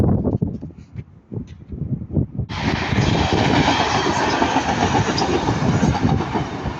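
A class 156 diesel unit, 156416, passes close by at Ardwick on its run from Manchester Piccadilly to Buxton, rising from rumbling clatter into a loud, sustained roar of wheels on rail.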